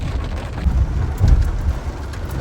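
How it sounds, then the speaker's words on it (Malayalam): Heavy rain pours steadily and loudly, a dense continuous hiss with a deep low rumble swelling now and then. "നല്ല മഴയാണ് മഴ എന്ന് പറഞ്ഞാൽ ഇന്നലെ രാത്രി തുടങ്ങിയ മഴയാണ്"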